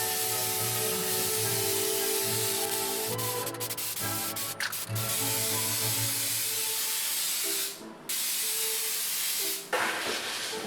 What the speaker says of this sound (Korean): 스프레이를 사와서 다시 도색을 했습니다.